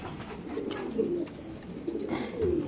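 A male racing pigeon, numbered 68 with clipped wings and a red tag on its leg, gives repeated low throaty coos close by, alone with no talk.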